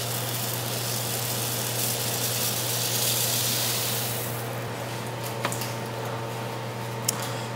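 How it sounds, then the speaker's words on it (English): Dry white rice poured into a pot of boiling water on a kitchen stove, a steady rushing hiss that fades into bubbling with a few light clinks, no talking. "the water is boiling, as you can see, so I'm gonna go ahead and pour in the rice"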